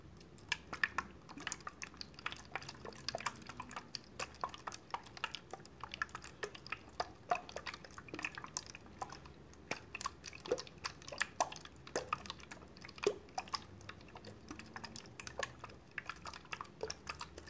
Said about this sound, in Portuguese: Feche os olhos que eu vou enxaguar o seu rosto.